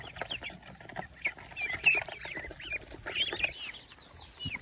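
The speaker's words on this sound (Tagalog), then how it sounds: "Yan yung manok natin guys." Several chickens cluck and call nearby, overlapping in short bursts over a low background hum.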